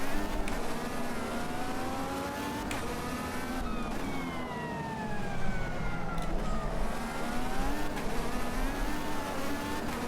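A Team Penske Chevy IndyCar engine in the Automobilista 2 racing game screams at high revs, pitch climbing and dropping through gear changes in a continuous loud whine.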